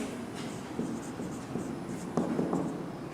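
Chalk or pen writing botanical names on a board during a plant taxonomy lecture, soft scratchy strokes in short bursts with small pauses, heard close in a quiet room without talk.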